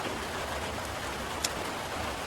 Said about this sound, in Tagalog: Ulan na po siya.